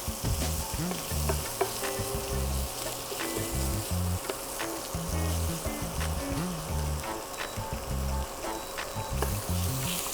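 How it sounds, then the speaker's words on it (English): Shallots and garlic sweating in a pan over medium heat give a steady, close sizzle and crackle with occasional stirring scrapes, and no one speaks. "We're just going to sweat out the shallots and the garlic until they start browning."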